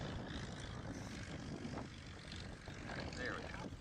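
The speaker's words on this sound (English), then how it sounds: "that's a Cub with a cargo pod" Vintage Piper Cub with a cargo pod arriving at the Oshkosh 2025 airshow on Runway 36: a steady propeller engine drone heard outdoors at a moderate distance, with people talking over it.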